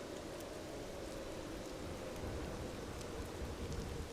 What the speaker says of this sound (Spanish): Afuera, la tormenta volvía a caer sobre Michilondres.